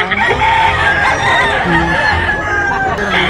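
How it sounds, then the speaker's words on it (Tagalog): A fighting rooster crows loudly and close by at a gamefowl expo, its long strained call filling the moment with a few clucks mixed in. "Gaganda ng manok ni Boss Batang, puro quality"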